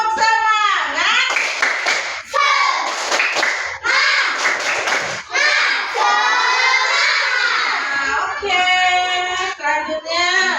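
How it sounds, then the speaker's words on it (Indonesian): A class of first-grade children doing a rhythmic spirit clap in a classroom, bursts of loud clapping mixed with shouting and chanting voices, broken by short pauses. "Coba tepuk semangat."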